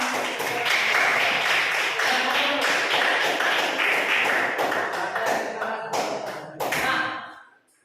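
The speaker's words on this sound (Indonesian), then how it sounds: "ya tepuk tangan untuk kalian" Students in a high school classroom clap together for several seconds, a dense, fairly loud wash of applause that stays steady and then fades out near the end.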